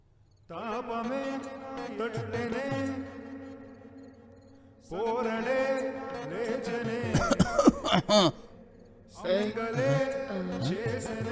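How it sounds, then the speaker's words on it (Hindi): A child coughs in bursts between stretches of music, a few rough coughs clustered together. "ये वाली खांसी अच्छी नहीं है"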